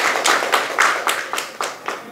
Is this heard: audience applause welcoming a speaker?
yes